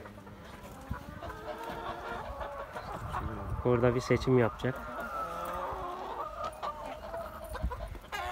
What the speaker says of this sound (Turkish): Oraya köy tavuğu seçmek için geldik.